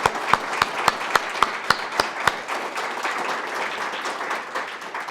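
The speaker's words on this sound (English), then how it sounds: "I'd like to give them a round of applause" Audience applause at a school alumni celebration, a few loud, evenly spaced claps at the start swelling into a steady, dense round of clapping from a seated crowd in a hall.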